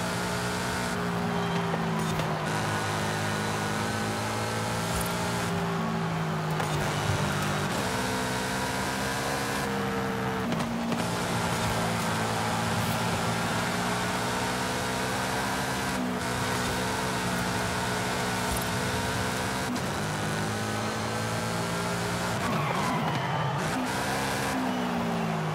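Subaru engine in the Forza Horizon 5 racing game during a multiplayer race: a steady, loud droning engine note that rises and falls with gear shifts, continuous throughout with no speech.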